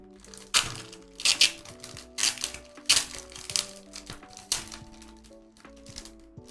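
Figures come out of double plastic packaging, with bursts of crinkling and crackling plastic in an uneven rhythm, each crunchy crumple standing out clearly against a quiet background.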